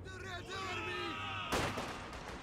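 In the Company of Heroes 2 war game, set in Stalingrad, a loud burst of gunfire and explosive crackle erupts partway through, following a stretch of game voice chatter and music.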